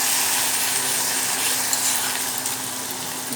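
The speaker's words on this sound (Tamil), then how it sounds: "அதை ஒரு கலக்கு கலக்கிட்டான் நல்லா வதக்கிட்டு" Meal maker soya chunks sauté in a hot pan, a loud steady sizzle with scraping stir strokes of a spoon against the metal, continuous and close with no talking.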